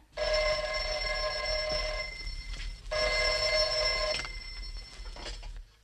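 A telephone bell rings in two long bursts with a pause between them, clear and fairly loud in a quiet room.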